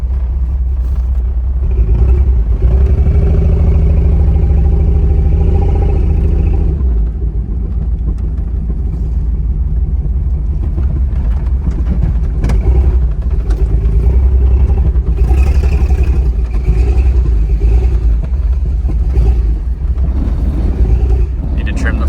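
A Jeep XJ engine idles and runs with a misfire, a loud, continuous low rumble with uneven pulsing throughout, no clear revving.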